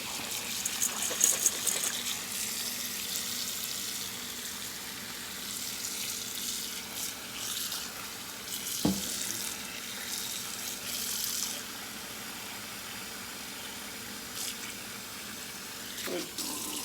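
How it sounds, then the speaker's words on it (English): Tap water runs into a soup pot of root vegetables, a faint steady splashing stream with occasional knocks and clinks of the pot. "So add water until it covers everything up."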